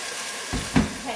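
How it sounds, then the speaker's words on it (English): Water poured into a hot pot of frying ground beef with spices sets off a sudden loud sizzle and hiss of steam that swells to a sharp burst, then settles into a steady frying crackle. "I'm going to add a bit of water because any spice that you add is going to dry out your pot"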